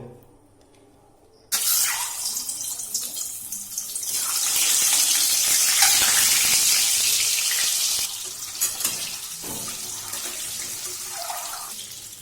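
Boiled eggs coated in turmeric drop into hot oil and fry, bursting into a loud, hissing sizzle that crackles steadily and then eases to a lower spatter, with occasional utensil taps.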